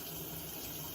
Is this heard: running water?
yes